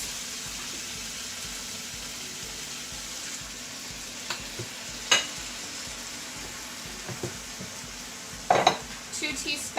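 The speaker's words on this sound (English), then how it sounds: "Stir it up." Chicken coated in garlic and ginger is stirred in a frying pan, a low steady sizzle with a few scraping and clinking utensil sounds near the end.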